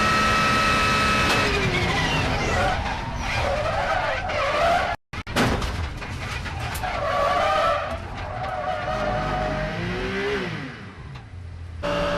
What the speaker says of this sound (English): Załoga BMW E21 wypadła z trasy w tym samym miejscu, mijając kanarkowe Renault.